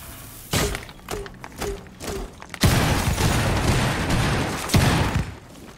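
A cluster charge detonating in Rainbow Six Siege: four evenly spaced sharp blasts, each with a short ringing tail, then a long loud roaring crash of debris with another bang near the end.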